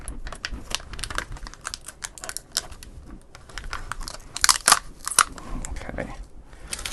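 Reassembling a 1990 electronic handheld encyclopedia: irregular plastic clicks, snaps and tapping of keys and casing parts being fitted, close up, with busy bursts of sharp clatter and brief quiet gaps.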